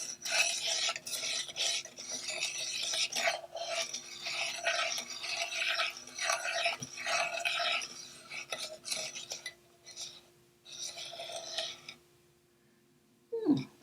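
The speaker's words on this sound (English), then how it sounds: "So I'm using a whisk to try and get that all together." A whisk stirs gingerbread batter ingredients (flour, salt and others) in a mixing bowl, a busy scraping, rasping rhythm of repeated strokes up close, pausing near the end before one final clink.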